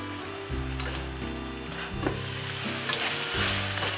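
Beef strips frying in a lightly oiled hot pan for japchae, a steady close sizzle with bursts of crackling as the meat is stirred, accompanied by a low background hum.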